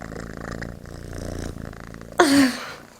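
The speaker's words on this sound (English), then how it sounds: "Listen to that purr." A soft, steady rumbling purr runs throughout, followed near the end by a brief louder burst.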